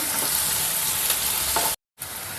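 Onions fry in a hot pan for village-style aloo kurma, a dense steady sizzle with stirring scrapes throughout, broken by a brief gap of silence before the frying noise resumes, no talking.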